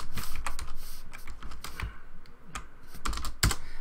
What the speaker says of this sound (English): You're going to notice I'm hitting tab and it completes my typing.